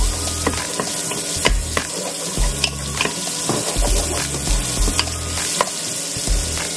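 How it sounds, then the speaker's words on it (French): Sliced onion frying in melted butter in a pan, a steady close sizzle broken by repeated stirring and scraping. "Après que notre beurre soit fondu, on va maintenant rajouter le reste de l'oignon"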